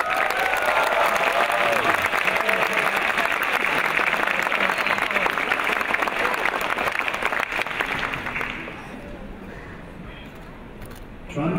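Audience applause for a graduate at an RMIT Vietnam graduation ceremony on the Hanoi campus, a broad sustained crowd clapping for about eight seconds before fading to a quieter room.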